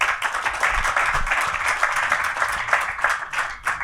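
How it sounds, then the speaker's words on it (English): Audience at a conference panel on secure payments and phishing applauding guests, a steady, moderately loud wash of many clapping hands that dips briefly near the end. "Let's give them a round of applause."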